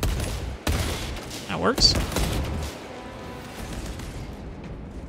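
Gunfire in the video game Warhammer 40K: Space Marine 2, a burst of loud shots near the start followed by a continuing rumble of combat under brief speech.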